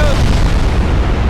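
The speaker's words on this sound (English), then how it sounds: "Fire the guns!" Heavy 20-inch naval guns fire in the Ultimate Admiral Dreadnoughts battleship game, a loud, booming blast that fills the whole moment with dense low rumble.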